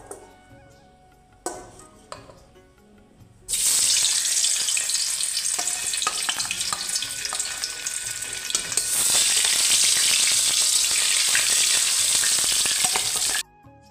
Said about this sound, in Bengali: তো এখানে আমার মাছ ভাজা সব কমপ্লিট হয়ে গেছে